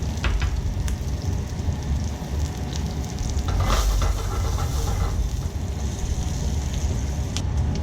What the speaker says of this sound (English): the idea here isn't to cook the potatoes through, it's to char them a little bit on the outside